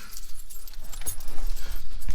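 The large key for a 2021 Kia Soul jangles up close, a bright rattle of metal with a sharper clink partway through, loud against a quiet cabin.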